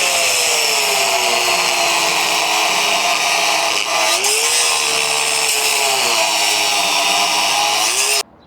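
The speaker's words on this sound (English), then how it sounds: "The cutoff wheel alone pops some of the welds free." A cutoff wheel grinding through the welds on a GMC CCKW truck body, a loud continuous high-pitched whine with a slight dip in pitch midway, close and unbroken for about eight seconds before stopping abruptly.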